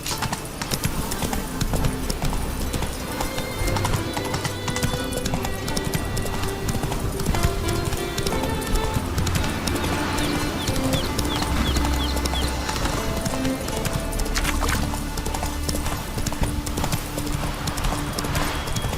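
Steady clip-clop of hooves at a quick pace over a dense, busy backdrop of game music and ambience in The Witcher 3: Wild Hunt, with an occasional whinny.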